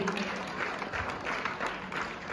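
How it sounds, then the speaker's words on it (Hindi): An audience at a national unity camp in Ujjain claps for a performer from Assam, a brief, even burst of crowd applause heard at moderate distance. "जोरदार ताली असम की बहन के लिए"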